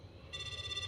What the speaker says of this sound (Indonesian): Oke, kita telepon Saito